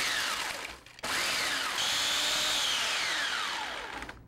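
A food processor grinds graham crackers with a loud, close motor whine that sweeps up and down in pitch, pausing briefly before running steadily for several seconds.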